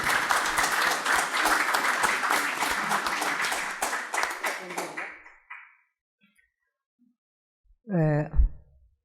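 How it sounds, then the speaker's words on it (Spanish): A book presentation audience at a house of literature breaks into strong, dense applause that fades out after about five seconds, leaving silence before a brief sound. "Gloria, te recibimos con un fuerte aplauso aquí en la Casa de la Literatura."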